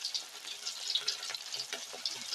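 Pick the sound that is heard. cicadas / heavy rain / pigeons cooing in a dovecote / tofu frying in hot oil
tofu frying in hot oil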